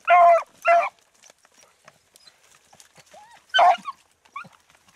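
Hunting dogs in thick brush give two sharp barks near the start and another loud bark later, with faint whimpers and rustling in the quiet gaps between.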